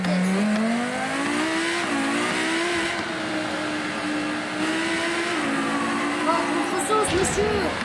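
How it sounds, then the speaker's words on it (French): A car accelerating in the video game BeamNG.drive: a continuous engine whine climbing in pitch and holding steady at high revs, loud and synthetic, ending with a few rapid pitch wobbles. "On va tenter. Une accélération."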